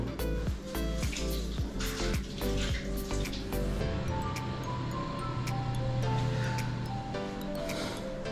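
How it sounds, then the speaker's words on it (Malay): Hot preheat water is poured out of a Flair Pro 2 espresso maker, a close splashing trickle with a few sharp clinks at first, then a smoother, steadier stream that continues to the end. "Dan air panas yang kita masukkan tadi ni kita buang, kita preheat ni kita buang dulu."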